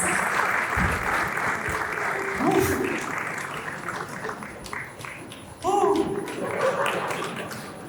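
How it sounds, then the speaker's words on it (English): Audience applause welcoming Jimmy Wales to a talk on open knowledge, a moderate steady patter of clapping with a voice speaking over it and a brief louder burst near the end. "Your applause."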